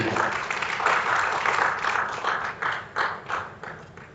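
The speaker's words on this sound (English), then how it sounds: "Let's make the applause louder for Mrs. Alaka." Audience applause at a local journalism and collaboration event, a steady wash of many hands clapping that swells and pulses for about four seconds, with a faint murmur of voices underneath.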